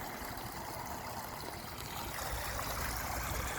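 Water from a newly started pondless waterfall runs and recirculates over rocks, a steady close trickle and splash that keeps going without pause.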